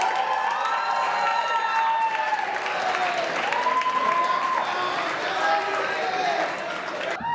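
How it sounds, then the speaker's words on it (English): Audience applause fills a school cabaret hall after a duet performance, loud, steady clapping with cheers and whoops from the crowd, children shouting over it, continuing throughout without a break. "Let's give him a round of applause, folks."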